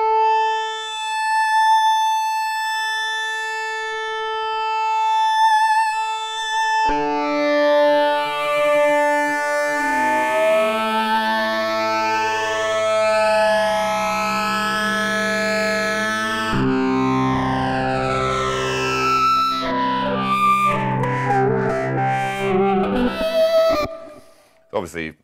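ROLI Seaboard synthesizer played at NAMM 2014, with sustained tones that bend and glide in pitch, sweeping up and down in siren-like arcs before breaking into warbling, distorted swoops.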